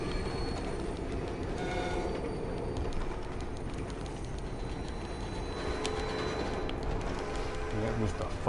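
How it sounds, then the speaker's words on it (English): A train rolls past in Red Dead Redemption 2, a steady rumble of wheels on rails with faint squeals, holding at a moderate level throughout with no clear speech. "I should rob that train."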